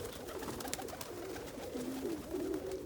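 Pigeons coo softly nearby during a snowstorm, low rounded calls repeating against a faint, steady background.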